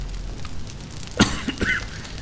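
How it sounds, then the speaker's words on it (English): A single short cough cuts sharply through a quiet room hum, followed by a softer throat sound moments later. "yeah, I've got a cough"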